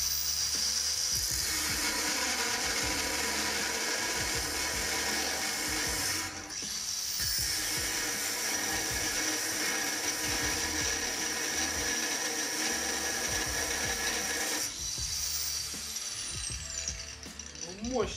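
A Procraft angle grinder cutting under heavy load: a loud, harsh grinding whine runs continuously, dipping briefly twice as it strains under heavy pressure.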